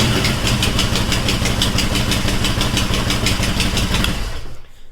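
A 2009 Harley-Davidson Sportster 1200 Low idles close by with a loud, steady, lumpy rhythmic chug, then cuts off abruptly just before the end.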